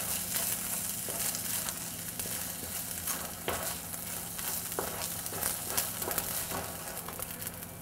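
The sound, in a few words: glutinous rice frying with garlic and oil in pan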